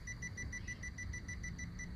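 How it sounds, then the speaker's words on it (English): A rapid, steady electronic beeping from a Power Probe ECT3000 short finder, evenly spaced high-pitched pulses repeating quickly over a low background hum. "You want it to beep as fast as possible"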